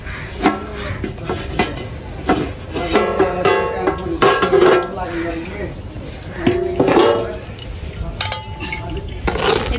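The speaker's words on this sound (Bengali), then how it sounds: "তো বন্ধুরা ঢাকা খুলে দেখি মাছের ঝোল হয়েছে কিনা" Metal lid lifted off a cooking pot of fish curry, clanking and clinking of cookware several times amid kitchen handling while someone talks throughout.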